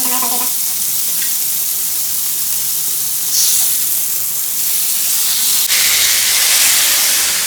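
Marinated tandoori chicken sizzles and hisses steadily in oil on a hot tawa, a loud continuous fry with steam bursts swelling now and then.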